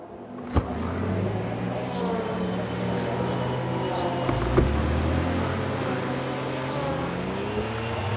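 Race car engines from a GT3 career-mode racing game roar steadily as the field pulls away from the start, with rising and shifting pitch sweeps and a couple of sharp transient knocks, under occasional talk.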